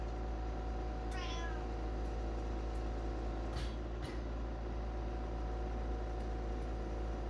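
A sick house cat gives one short meow early on over a constant loud mechanical hum, followed by a couple of faint clicks and rustles indoors.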